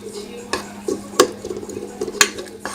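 Utensil scraping and clinking against a pan while vegetables are stirred in a cluttered workplace, a few sharp knocks over a steady low hum, close and moderately loud.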